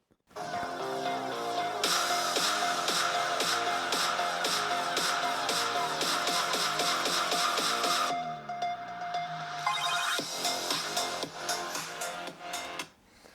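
Music plays through the built-in speakers of a 13-inch MacBook Air laptop at about 80 percent volume. It sounds steady and moderately loud, with a rhythmic beat that shifts to a sparser passage partway through.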